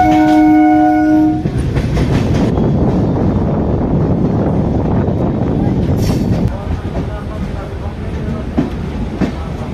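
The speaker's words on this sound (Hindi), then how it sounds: "बाकी ट्रेन निकल चुकी है सिमरी बख्तियारपुर से।" An Indian train, the Rajya Rani Superfast Express, rumbles past close by at Simri Bakhtiyarpur, opening with a brief horn blast, then a steady heavy roar of wheels and cars that fades slightly toward the end.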